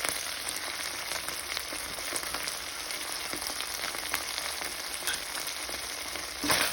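Purefoods sisig being sautéed in a pan with crushed pepper and Knorr seasoning, giving a steady, close, even sizzle that runs without pause for several seconds, with no voices.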